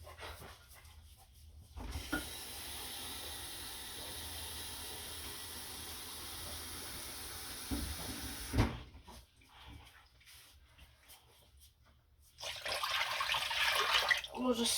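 Water and chicken broth pour into a soup pot for a chipotle chicken and rice soup, a steady splashing stream lasting several seconds, with quieter kitchen handling before and a louder rush near the end.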